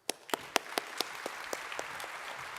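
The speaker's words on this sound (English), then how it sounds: "let's give him a warm welcome round of applause." A conference audience gives a warm round of applause to welcome a speaker on stage, starting with distinct individual claps that build into a steady, moderately quiet wash of clapping.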